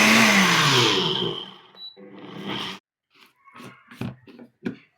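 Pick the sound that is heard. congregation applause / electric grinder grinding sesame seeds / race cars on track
electric grinder grinding sesame seeds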